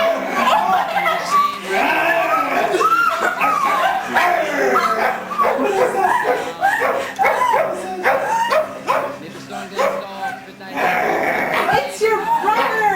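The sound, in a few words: child imitating dog barking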